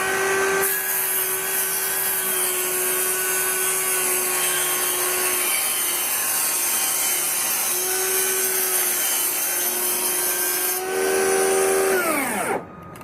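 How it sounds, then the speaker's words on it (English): A table saw rips a thin sharp edge off an angled wooden base-cabinet filler, its loud steady blade whine running continuously, then winding down near the end. "rotate the filler like this and then extend your fence 5/16 of an inch and then rip off that sharp edge"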